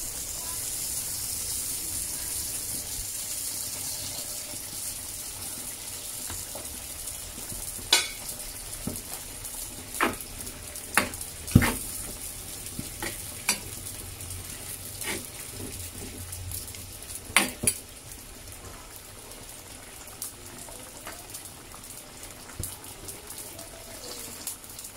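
A spoon stirs red chili powder into a pot of boiling Acehnese sie reuboh soup, with soft scraping clinks and knocks over a low, steady bubbling simmer that stays fairly quiet and close.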